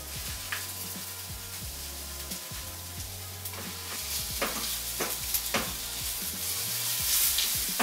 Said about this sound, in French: je vais rajouter donc la cassonade et je vais les laisser caraméliser tout doucement